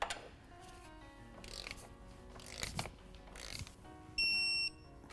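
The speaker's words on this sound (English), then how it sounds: "we're going to torque down this lower shock mount bolt to 56 foot-pounds" An 18mm socket and box wrench tighten a lower shock mount bolt to 56 foot-pounds, with soft ratcheting clicks and mechanical noise, then a short, sharp electronic beep near the end.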